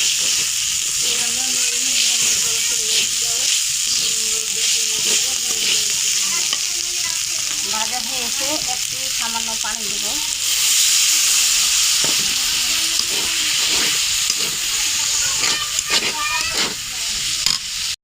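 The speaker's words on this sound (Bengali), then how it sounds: "একটু ভালোভাবে নাড়াচাড়া দিয়ে ভাজা ভাজা করবো।" Teasel gourd (khoksa) sizzles steadily while frying in spices, with repeated scraping and stirring clatter of a spatula in the pan; a voice talks over the cooking throughout.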